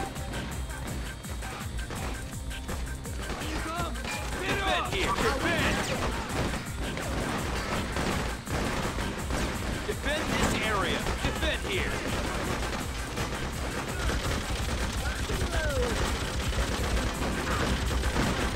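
Shotgun blasts and bursts of gunfire from the video game Freedom Fighters crack repeatedly over a continuous noisy battle din, with someone talking over the shooting.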